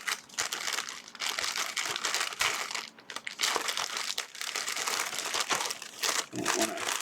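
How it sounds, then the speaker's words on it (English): A plastic mail package from an online order being cut open with scissors and handled, with loud, close crinkling and crunching of plastic in uneven bursts and brief pauses, without speech. "Scissors, I suppose, will get us in there."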